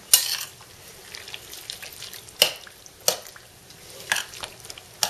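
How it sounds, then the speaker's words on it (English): A spoon stirring hot sauce into a dill sauce in a bowl, giving soft wet mixing sounds with a few sharp clinks of utensil on the dish, close and fairly quiet, no talking. "we just mix it up together."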